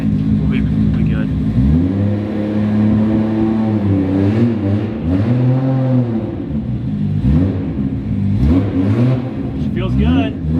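A Nissan R32 GTR engine revs on a test drive, its pitch sweeping up and down through several loud, sustained rises and falls with a steady drone between them.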